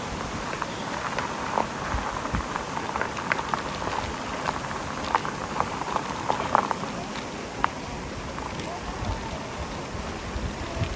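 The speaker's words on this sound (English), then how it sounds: "Rapids to go through." River rapids in Great Smoky Mountains National Park give off a dense, continuous roar of rushing water, close and steady throughout with scattered splashes.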